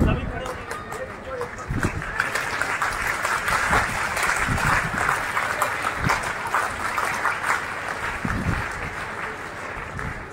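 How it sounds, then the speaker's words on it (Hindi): Children clap at a school annual function, sustained loud crowd applause filling the whole stretch, with some voices mixed in. "मैं चाहता हूं कि बच्चों की वही ताली जरा स्वागत में बज जाए"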